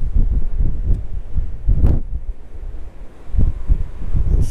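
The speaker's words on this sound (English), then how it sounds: "and still the wind rages" Strong gusts of wind buffet a hilltop in cold weather, roaring and rumbling in uneven surges against the microphone, with no voices.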